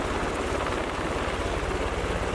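Medevac helicopter running with its blades rotating, a steady loud rotor and engine roar with rapid low thumping, close by and continuous with no voices.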